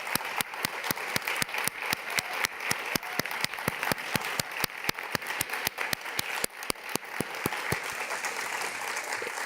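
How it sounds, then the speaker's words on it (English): An audience claps steadily for award recipients at an event on innovations against gender-based violence, a continuous dense round of applause that carries on for the whole stretch before gradually thinning near the end. "Can I please ask for a round of applause for all of our awardees?"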